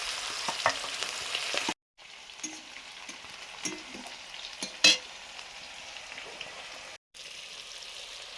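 Five-spice tempering and chopped onion fry in oil for an eggplant and potato dish, a continuous crackling sizzle with a sharp clatter midway and two brief dropouts.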